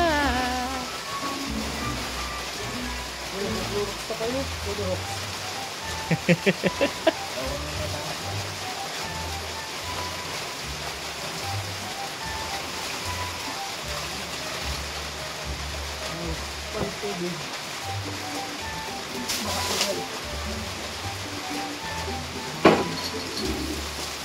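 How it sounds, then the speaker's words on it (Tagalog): Heavy, nonstop rain falling through the day makes a steady, dense wash of noise throughout, with a few brief louder knocks and bursts on top. No talk is heard. "So halos buong maghapon pang ulan mga kababayan. Walang tigil na ganito."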